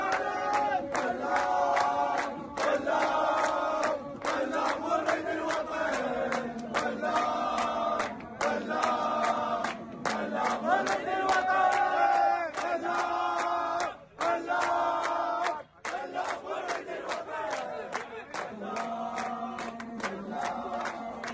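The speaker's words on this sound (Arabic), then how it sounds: "دعونا نتابع جانبا من تظاهرات الطلبة في بغداد" Student protesters chant in unison at a demonstration in Baghdad, a loud crowd shouting rhythmic slogans in repeated bursts with brief pauses between phrases, continuous for the whole stretch.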